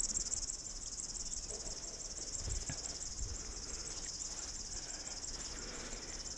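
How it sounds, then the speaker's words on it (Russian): Outdoor stroll through a wooded ravine on an eco-trail in Perm in late May, with a steady high chirring trill running throughout, insect-like and continuous, with faint low rustles and bumps underneath. "Птица как стрекочет."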